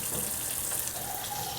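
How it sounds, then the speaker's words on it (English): Hot water runs steadily from a kitchen tap in a continuous gushing hiss, alone and fairly close, while nachos are being made. "I'm going to stick some water in here"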